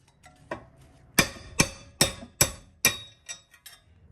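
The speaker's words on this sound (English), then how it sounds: "I'm just using a brass hammer and I'm hammering it out" Sharp metallic brass hammer blows driving out a Toyota truck rear axle ring out in a steady series, about eight strikes, close and loud with brief ringing decay between.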